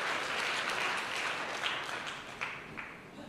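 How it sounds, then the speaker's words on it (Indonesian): Faint applause from a church audience that tapers off, soft and distant, with a few louder claps standing out near the end. "tepuk tanganmu lemes gitu"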